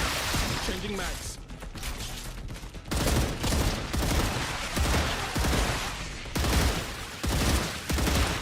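Dense, continuous gunfire from the StarRupture video game: loud, rapid overlapping shots and bursts with brief dips, as if several weapons fire at once.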